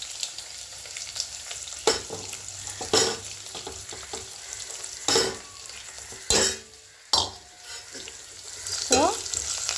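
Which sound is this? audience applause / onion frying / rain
onion frying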